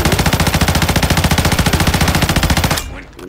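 Rapid automatic gunfire from Call of Duty Warzone Mobile, played on a Redmi Note 11T Pro, rattles in a dense, steady burst for nearly three seconds, then cuts off into quiet game ambience.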